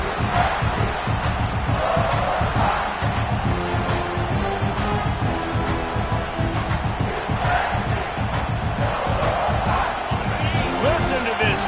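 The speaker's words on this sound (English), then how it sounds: "Listen to this crowd just shaking the girders of this place" A huge stadium crowd roars continuously, a dense, loud wall of cheering and yelling with no break, set in the college football video game NCAA 26.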